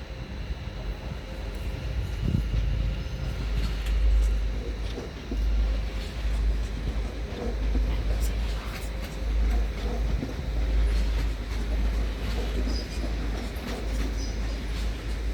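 An ÖBB Mireo electric train pulls into Munich main station, a low rolling rumble with faint rail clicks and a hum that swells and ebbs, heard from the platform.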